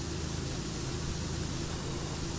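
A pressure washer sprays continuously in PowerWash Simulator while cleaning a subway station, a steady close hiss with no breaks and no talk.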